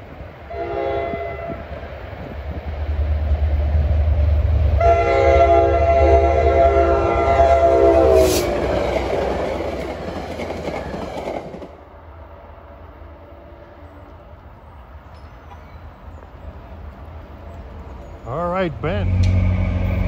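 An NJ Transit EMD GP40FH2 diesel locomotive passes with a loud horn blast, a heavy engine roar and clattering railcars, then fades, with a second horn burst near the end and people talking nearby.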